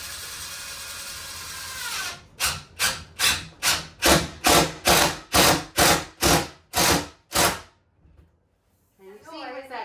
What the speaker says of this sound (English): It helps to drill some pilot holes, and if you have tile, you'll need to drill pilot holes.